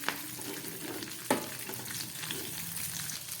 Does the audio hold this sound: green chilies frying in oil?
yes